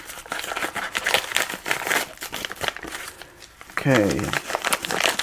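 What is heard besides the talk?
tearing open a plastic envelope package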